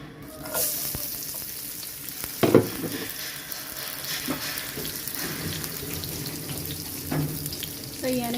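Onion and garlic sautéing in a pan, a soft steady sizzle with scattered clinks and a louder clatter of stirring, close and alone without any voices.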